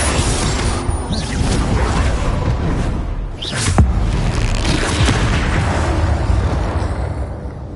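Spell explosions during combat in the video game Hogwarts Legacy, dense loud booms and whooshing blasts layered one after another with a sharp burst near the middle, no speech heard.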